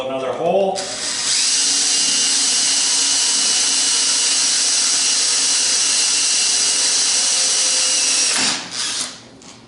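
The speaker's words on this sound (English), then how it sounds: "Drill another hole." A power drill whines steadily at high speed for several seconds after a brief spin-up, then winds down and stops near the end.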